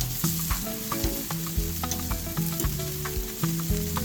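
Jamaican jerk chicken sizzles steadily on a grill, a dense continuous crackle with small pops and soft scraping knocks as pieces are flipped, close and without talk.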